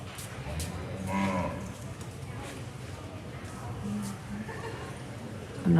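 Cattle moo in an arena during a red female calf division at a cattle show, with a few low calls heard at moderate distance under a steady crowd murmur and someone talking.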